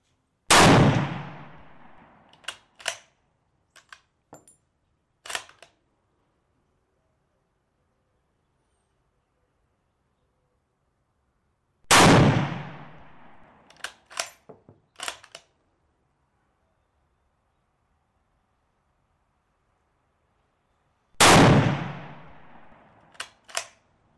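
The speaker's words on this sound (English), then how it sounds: "I'm shooting sitting at a range under the best conditions" An original Kar 98 rifle fires three loud, sharp shots at an outdoor range, each crack followed by a fading echo and a few quieter metallic bolt-action clacks, spaced roughly ten seconds apart.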